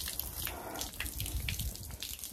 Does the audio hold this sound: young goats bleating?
no